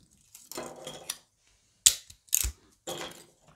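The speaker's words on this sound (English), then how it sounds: "I'm just gonna peel that brim off there." A brim being peeled off a 3D-printed part for a robot arm joint: bursts of crackly plastic tearing and ripping, then a few sharp snaps and a final tearing stretch, close and fairly loud.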